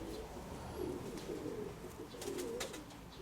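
Soft, low pigeon cooing repeats in a steady murmur over a constant background hum, with a few faint higher chirps.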